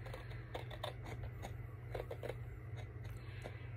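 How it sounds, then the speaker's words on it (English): Scissors snip through a 12x12 sheet of paper for a craft folio, a run of close, crisp cutting crunches in a quick uneven rhythm over a low steady hum. "So take your scissors, try to cut as straight as you can."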